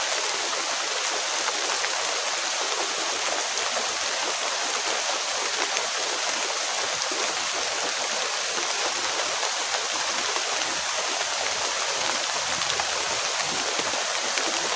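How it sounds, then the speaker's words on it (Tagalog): Heavy rain pours down steadily outdoors, a dense, unbroken hiss that stays loud and even throughout with no pauses. "Basa ka dito, lakas ng ulan."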